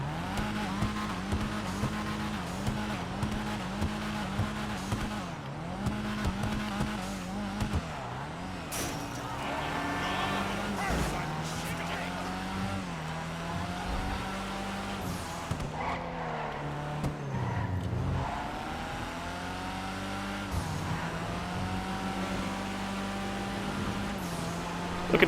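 Karin Everon RS SUV in the GTA Online video game driving in daytime, its engine droning steadily with rising and falling revs as it shifts through gears, plus occasional brief tyre squeal, continuous throughout.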